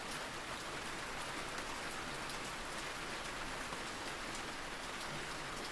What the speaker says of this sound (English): The rain drummed softly against the roof,